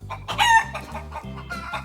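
A chicken clucks and squawks nearby, loud and close, in a quick burst of calls.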